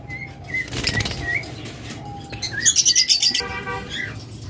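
Small birds chirp and tweet in quick bursts nearby while wings flap briefly in short flurries, with a dense twittering passage in the middle.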